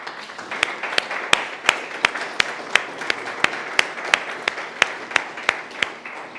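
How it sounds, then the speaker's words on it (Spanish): A church congregation claps in steady rhythm after a sermon, sharp evenly spaced hand claps ringing out in a reverberant hall, moderately loud with no talk over them. "Dale un fuerte aplauso a Cristo Jesús."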